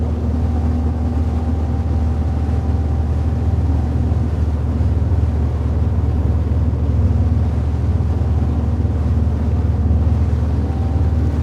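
Malibu 24 MXZ Wakesetter boat running and carving a wake: a loud, continuous low engine rumble with rushing water and wind noise, steady throughout with no talk.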